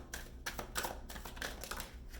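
A deck of tarot cards being shuffled, quick riffling and snapping bursts in a rapid irregular rhythm, close and fairly quiet, with no talking.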